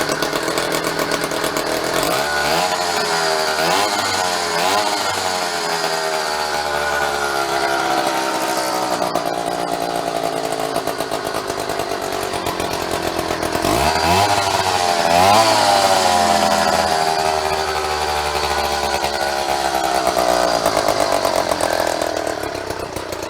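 Small two-stroke engine on a custom motorized bicycle with a jackshaft, running in gear with a loud, continuous close buzz, swelling with revs at times and dipping briefly mid-way before climbing again.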